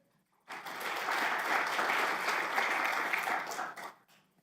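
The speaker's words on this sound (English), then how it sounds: "once again, round of applause for everyone for coming out here today and joining us" Audience applause at a county State of the County address bursts in after a brief silence, holding as a dense, even clatter of many hands for about three seconds before fading out.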